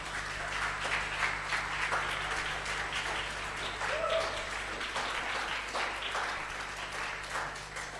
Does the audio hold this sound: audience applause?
yes